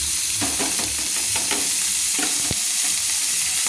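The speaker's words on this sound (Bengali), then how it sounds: "পেঁয়াজগুলো একটু লাল লাল করে ভেজে নিচ্ছি" Chopped onions frying in hot oil in a pan, a loud close sizzle with repeated scraping strokes of a spatula stirring them, and a sharp knock around the middle.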